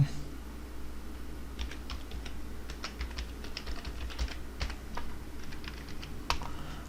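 A password is typed on a computer keyboard: a steady stream of light, close keystroke clicks with small pauses, over low background hum and no speech.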